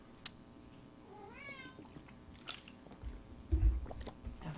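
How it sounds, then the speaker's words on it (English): A house cat gives a short rising meow, close and fairly quiet, followed by soft chewing or crunching sounds over a low background hum. "That's my cat, Mitchell."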